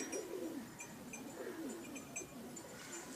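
Pakistani pigeons, including a blue female, coo in low, wavy, repeated calls that hold close and steady over a faint rustle, with no talking.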